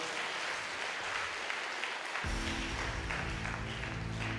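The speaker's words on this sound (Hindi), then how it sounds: "ताली बजाओ जोरदार।" A church congregation at a Hindi-language service claps loudly and continuously. The dense, noisy applause swells partway through, with a deeper, fuller layer joining the clapping.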